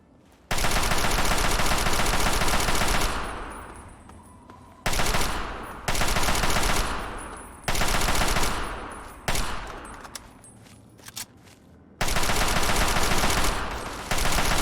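Sustained automatic gunfire from Fallout 3 in loud bursts of several seconds each, separated by short gaps, with the final burst resuming after a brief pause.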